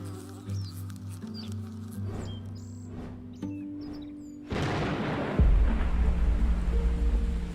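Rain shower falling on a paper wasp nest in an Asian forest, starting as scattered ambient sounds and then swelling into a dense, loud, steady wash of rain with a deep low rumble.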